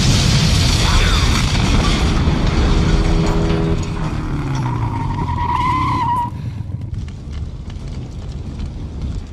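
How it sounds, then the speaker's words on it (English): Tires screech and engines roar in a loud, chaotic vehicle crash sequence, followed by a booming rumble that fades into lingering debris noise. "no Hollywood car collision can end without the appropriate explosion to finish off the scene"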